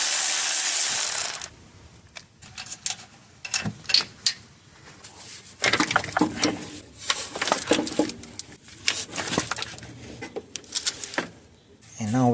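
A ratchet wrench loosens a 10mm ground bolt on a Ford F150 engine, giving bursts of quick, close clicking in short runs with pauses, and a brief loud noise at the start.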